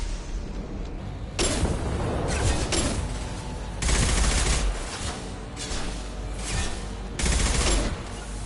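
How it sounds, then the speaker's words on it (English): Heavy gunfire rattles in Mass Effect 2, with repeated loud bursts of automatic shooting separated by brief lulls, dense and close, with booming impacts in several of the volleys. "Taking heavy fire!"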